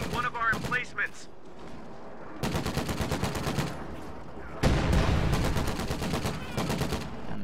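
Gunfire in a video game battle, with rapid bursts of automatic shots that start, stop and resume, and a louder, denser barrage with deep booms in the second half.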